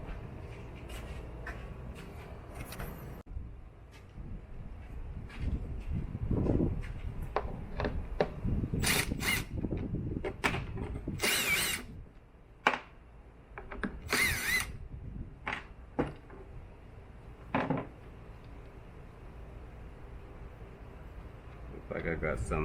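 Power drill backing hex screws out of a RAM pickup headlight housing, heard as repeated short whirring bursts of varying length with handling clatter between them, up close, with someone talking in the pauses.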